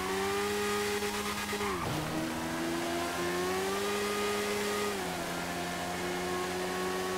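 A Kawasaki engine in a GTA game drones steadily during a test drive at an airport, with a sharp pitch drop near two seconds and a smaller shift near five seconds, loud and continuous with no talking.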